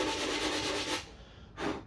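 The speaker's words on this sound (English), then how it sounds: "So I don't need to do much sanding to get mine out." Abrasive sanding on a wooden cajon as a small bump is worked flat: a steady rubbing stroke for about a second, a short pause, then another brief stroke, close and fairly quiet.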